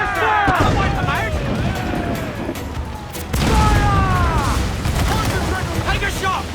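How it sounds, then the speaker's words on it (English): Ship cannons firing in the video game Assassin's Creed IV Black Flag, with a rolling series of loud booms and volleys during a naval battle while crew members shout over the gunfire. "Fire! Fire! Fire! Cannon ready!"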